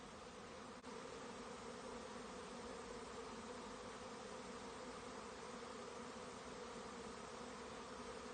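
Honeybees buzz around a swarm trap on a homestead, a continuous, even hum that stays faint and distant for the whole stretch, with no talking.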